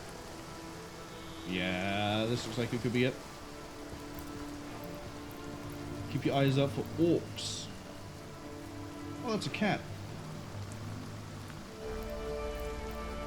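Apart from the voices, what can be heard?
rain falling in the video game Divinity Original Sin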